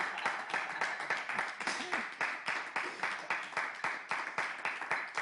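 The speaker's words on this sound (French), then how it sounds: "on va applaudir Badamasi, s'il vous plaît." An audience clapping in rhythm during a live stage show, a moderate steady beat of claps with a voice briefly heard among them.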